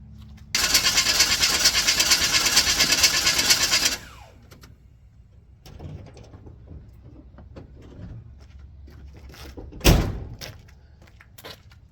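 A car engine cranks over on the starter after a carburetor swap with empty fuel bowls, a loud steady grinding for about three seconds that stops without catching, followed by quieter clunks and a sharp knock.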